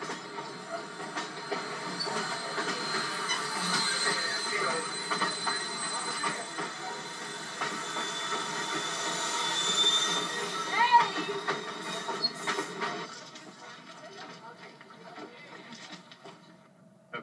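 Ohio Central Railroad train rolling past on a fall run-by in 1998, a steady broad rumble and hiss of wagons with wheel squeal and faint clickety-clack, fading out near the end.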